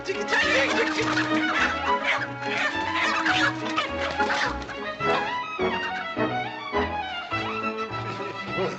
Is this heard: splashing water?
no